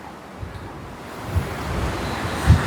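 Rough, surging sea waves pound the South Zone coast of Rio de Janeiro during a cyclone, a continuous roar of surf with wind buffeting the microphone and a couple of heavier breaking swells.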